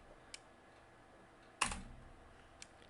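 Keystrokes on a computer keyboard while entering a command on a Mac, heard as a few sparse clicks, with one sharper, louder tap in the middle and faint taps before and after, over a quiet background.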